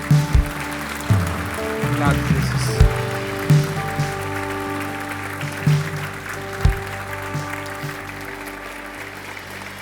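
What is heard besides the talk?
congregation applause in church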